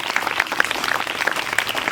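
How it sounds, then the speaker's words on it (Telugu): Audience applause for a school headmaster, a dense, steady patter of many hands clapping at moderate distance, continuous for the whole stretch with no voices on top. "మీ హెడ్ మాస్టర్ గారికి ఒకసారి క్లాప్స్ ఇవ్వాల్సిందిగా కోరుకుంటున్నాను"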